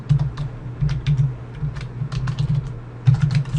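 Steady typing on a computer keyboard while entering spreadsheet labels, close and clear, in quick irregular bursts of keystrokes with short pauses.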